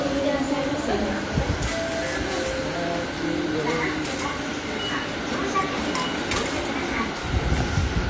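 A train ride in Japan with a steady rumble and rattle of the carriage, occasional clacks and squeals, and voices talking quietly in the background throughout.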